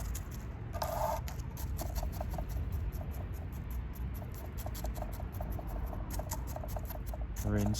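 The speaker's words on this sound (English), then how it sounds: "Rain's starting up again now." Rain beginning to fall outdoors during spring repotting of mountain ash trees, a steady hiss with scattered light ticking drops throughout, moderately quiet and continuous with no speech.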